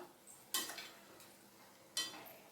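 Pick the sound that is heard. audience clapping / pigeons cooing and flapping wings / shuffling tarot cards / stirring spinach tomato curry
stirring spinach tomato curry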